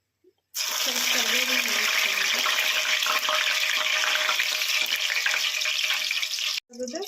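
Vada pav fillings deep-frying in hot oil until reddish, a loud, dense, steady sizzle that holds nearly the whole time before cutting off briefly near the end, with a faint voice at the very start.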